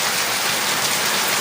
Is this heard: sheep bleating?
no